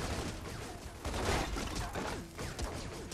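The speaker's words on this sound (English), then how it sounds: "Strangulate's just shooting off Lancer bullets" Rapid Lancer rifle fire during a competitive Gears of War match, a steady clatter of shots mixed into busy, fairly quiet battle noise.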